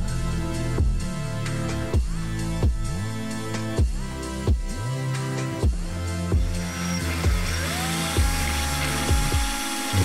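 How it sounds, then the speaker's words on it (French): A power drill bores a screw hole through a carbon Power Box housing part, its motor whining in repeated bursts that rise and fall in pitch, loud and close with no talking. "Donc là on perce la partie qui va servir au passage de la vis."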